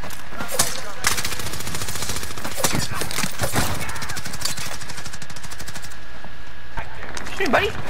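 Rapid automatic gunfire and explosions from the video game Call of Duty rattle loudly and continuously, with bursts and impacts, while a player talks excitedly over it.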